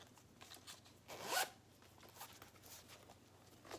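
Zipper on a Dooney & Bourke Selleria handbag, new with tags, pulled by a large zipper pull: a short run of soft ratcheting clicks that swells into one loud, close zip near the middle, then quieter handling rasps.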